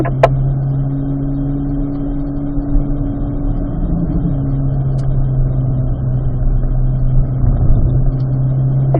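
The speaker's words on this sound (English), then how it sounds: "We'll go all the way up to fourth gear here." A car engine drones loud and close from inside the cabin, holding a steady low hum while the pitch climbs and settles through the gears up to fourth, with a few faint clicks.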